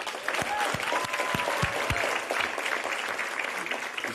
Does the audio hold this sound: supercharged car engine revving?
no